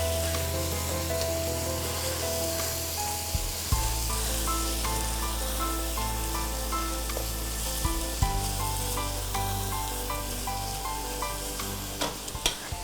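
Crushed shallots sizzle in hot oil for a mutton biryani, a steady loud frying hiss with occasional stirring knocks and no talk.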